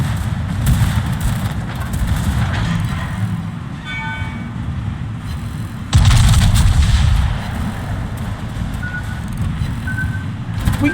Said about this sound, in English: Our secondaries are still going off.